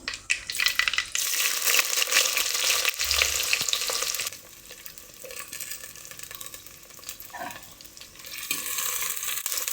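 Loud hissing sizzle as chopped shallots drop into hot oil, then the crackle settles to a quieter, steady frying sound, close by.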